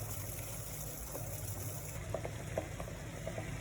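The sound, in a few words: water boiling on high flame for cough drink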